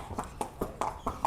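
A mare's hooves clip-clop at a steady walking pace as she is cooled down back home after a ride, five or six clear hoof strikes close by with no talking.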